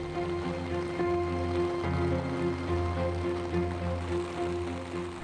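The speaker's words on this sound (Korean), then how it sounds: "아침부터 쏟아진 물폭탄에 청계천마저 범람 위기로 통제된 날." Heavy monsoon rain pours down on a flooded city street by Cheonggyecheon stream, a loud, steady wash of water with a low droning hum mixed in throughout.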